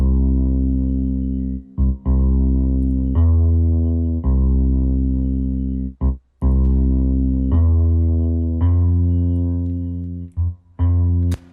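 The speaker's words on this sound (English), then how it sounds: "So we're just listening to bass." A bass line with a little reverb, playing loud, sustained low notes one after another with short gaps between phrases and no other instruments or voices.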